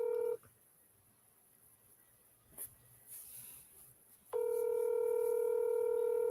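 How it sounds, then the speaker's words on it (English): A telephone call rings out through the handset, a steady electronic ring tone sounding loud and close, falling quiet for a few seconds, then starting again and holding to the end. "Okay, it's ringing."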